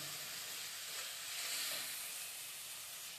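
Onion, tomato and garlic sauté with spices in oil in a pan for mutton biryani, producing a steady, dense sizzle that swells slightly midway and continues without pause.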